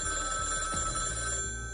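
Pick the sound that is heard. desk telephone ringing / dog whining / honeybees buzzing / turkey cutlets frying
desk telephone ringing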